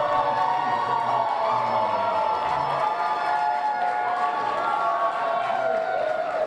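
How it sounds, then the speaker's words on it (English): A crowd of supporters cheers and applauds at an election-night celebration for Governor Raimondo's projected re-election, a loud, dense and continuous roar of clapping and voices with talk mixed in. "the applause went up when the both of you announced that Governor Raimondo was going to be reelected for 4 more years"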